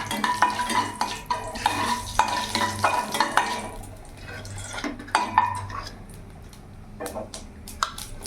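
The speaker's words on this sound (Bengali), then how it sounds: "এই তেলের মধ্যে আমি ফোড়নে দিয়ে দেবো গোটা কালো জিরে" Whole black cumin tempering in hot oil for a drumstick vegetable curry, with a loud close sizzle broken by repeated scrapes and clanks of a spoon stirring against the pan.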